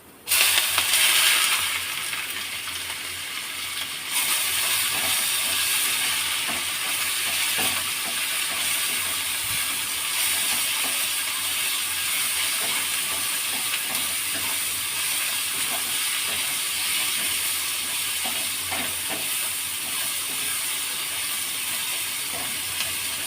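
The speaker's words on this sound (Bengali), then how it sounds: "স্লাইস করে রাখা পেঁয়াজগুলো সেগুলো অ্যাড করে দেবো এর মধ্যে আমরা" Sliced onions frying in oil in a pan, a steady loud hiss and crackle of sizzling that holds evenly throughout, with small pops scattered over it.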